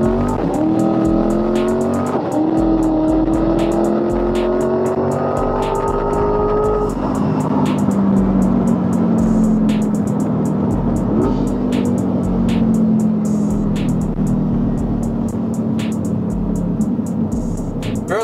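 A boosted C8 Corvette accelerates hard on a run, its engine note climbing steadily and loud, easing briefly before pulling again with a continuous roar and no talking.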